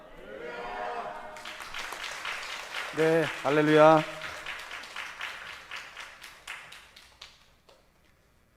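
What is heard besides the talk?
church congregation applauding a preacher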